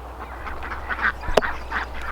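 Ducks foraging in a weedy garden alongside turkeys and goats give soft, close quacks scattered through a steady outdoor background, with one sharper burst of sound near the middle.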